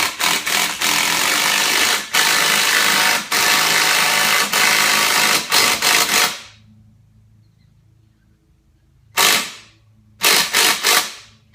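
Power tool, likely an impact wrench, tightening a bolt on a Calvert Racing mono-leaf spring at the rear axle perch, loud rapid hammering bursts up close, then silence and two short final bursts.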